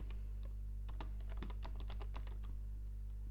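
Steady, quiet typing on a computer keyboard, a run of light, irregular key clicks over a low electrical hum, with no voices.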